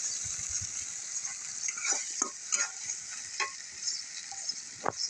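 Tomato and spice masala sizzle steadily in a pan for pona fish curry while a spoon scrapes through it in irregular strokes, close and moderately loud, no one speaking.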